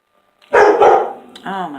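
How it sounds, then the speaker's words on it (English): Several dogs bark in a short, loud burst of overlapping barks close by, followed by a brief yip or whine, with no talking over them. "Oh, my dogs."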